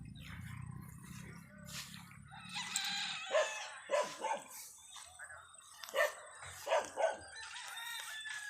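Dog in a rural mountain setting barking in a series of sharp, spaced barks, several distinct yaps in the second half, with a rooster crowing and low murmurs earlier.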